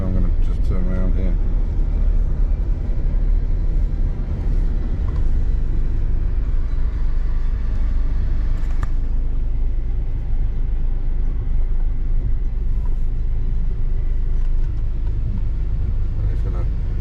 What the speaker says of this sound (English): I've got my big trailer on the back, so I'm going to just turn around here.